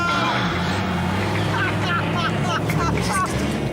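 A Chevrolet Camaro pulling away hard from a standstill, engine roar climbing steadily in pitch as it accelerates, loud and continuous with voices talking over it.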